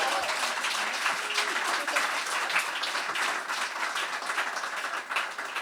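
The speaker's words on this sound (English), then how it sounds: "Please help me give them a big applause as we start the conversation" Steady, sustained applause from a conference audience welcoming a panel of women onstage at a Web3 event, broad and even clapping throughout with a faint voice underneath.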